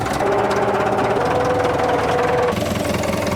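A Massey Ferguson 165 4x4 tractor engine running at a steady idle, a close, rough diesel rumble with a regular knocking pulse that shifts slightly partway through.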